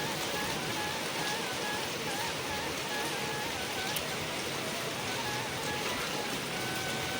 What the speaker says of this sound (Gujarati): સવારે તો જોઈ લો, ઘડીકનું જપ નથી વરસાદની